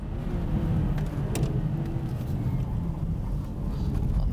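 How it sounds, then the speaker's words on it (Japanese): Cabin rumble of a Subaru Impreza or Mitsubishi Lancer with a 6-speed manual being driven hard, a steady low engine and road roar with some wind noise throughout, close and continuous. "Now Dory Dory takes the car out for a spin"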